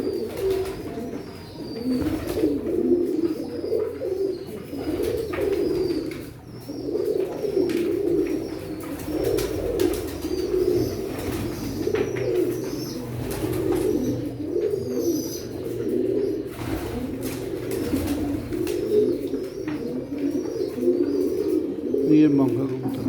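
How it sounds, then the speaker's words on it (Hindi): A Manga pigeon coos in repeated low, throaty rolls close by, with faint chirps from other birds and a human voice now and then. "ये मंगा कबूतर है"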